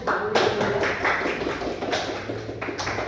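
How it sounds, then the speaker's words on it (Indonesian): Students clap together in a classroom, a short burst of hand claps with uneven, scattered strikes that rise and fall over a few seconds, fairly close and moderately loud, with no talking over it. "Tepuk tangan dulu."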